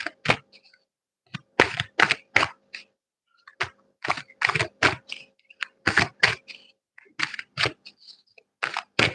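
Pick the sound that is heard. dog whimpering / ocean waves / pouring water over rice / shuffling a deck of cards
shuffling a deck of cards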